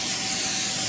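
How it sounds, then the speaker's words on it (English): Cooking spray hisses out of an aerosol can onto a cookie sheet, a short, steady, close spray. "spray a cookie sheet"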